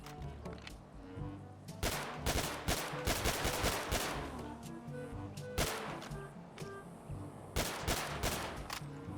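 Gunfire in GTA V with the Realistic Weapons Sounds 5.4 mod, repeated loud close bursts of automatic fire and single shots in first-person view, with in-game background music playing underneath.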